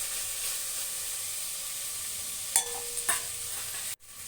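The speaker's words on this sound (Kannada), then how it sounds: "ಎಣ್ಣೆಯಲ್ಲಿ 2 ಫ್ರೈ ಆದ ನಂತರ ನಾವು ರುಬ್ಬಿಟ್ಕೊಂಡಿರೋಕ್ಕಂಥ ಮಸಾಲೆನ ಆ್ಯಡ್ ಮಾಡ್ತಾಯಿದ್ದೀನಿ" Ground masala frying in oil for a black-eyed pea sambar gives a steady hissing sizzle, joined near the end by a couple of spoon scrapes before the sound cuts off abruptly.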